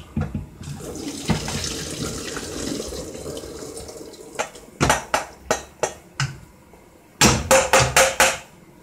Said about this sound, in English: And there we have some nice strained pasta.